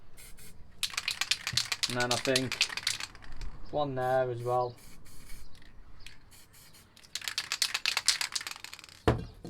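A spray can releases short, hissing bursts of red paint in several separate blasts, close by, with someone speaking briefly between them.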